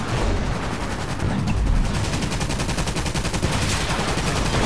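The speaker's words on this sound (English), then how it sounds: "My artillery go boom." Artillery and gunfire in Toy Soldiers: Cold War, a dense, continuous rapid rattle of shots with low booms underneath, loud and steady throughout.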